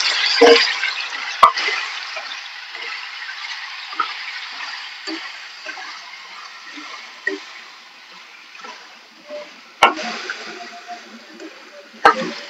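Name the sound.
chopped tomatoes added to a pan and stirred while frying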